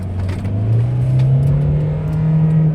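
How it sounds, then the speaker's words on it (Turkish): A Hyundai Matrix car engine revs up loud and close, its hum climbing smoothly and steadily toward high RPM without a break. "Çok hızlı bir şekilde araba yüksek devri buluyor."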